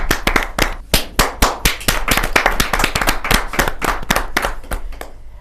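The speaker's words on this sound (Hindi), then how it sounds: "क्या जोरदार ताली के साथ" Lively applause from an audience at a poetry gathering, a kavi sammelan: sharp, close hand claps in a quick uneven burst that continues strongly for several seconds before slightly thinning out.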